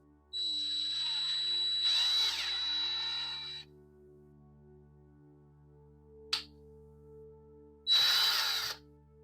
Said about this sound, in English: Yeah, it needs to be the bigger drill bit.